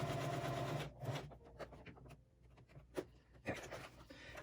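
A sewing machine runs in short bursts stitching back over a fabric mask casing, a close whirring hum that pauses and restarts several times.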